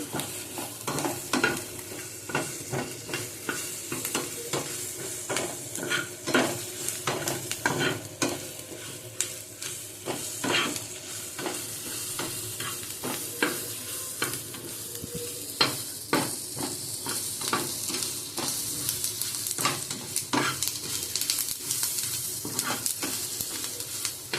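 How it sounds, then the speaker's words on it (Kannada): Okra fries in a pan, Mangalore style, with a constant sizzle under frequent scraping and clattering strokes of a spoon being stirred through it, close and busy, with no voices. "ಅದರಲ್ಲಿ ತುಂಬ ಚೆನ್ನಾಗಿ ಫ್ರೈ ಮಾಡುವ"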